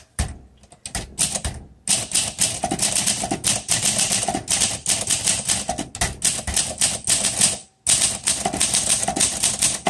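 Rapid, steady typing on a 1952 Olympia SM3 manual typewriter, crisp close-up key strikes in a continuous rhythm with a brief pause partway through.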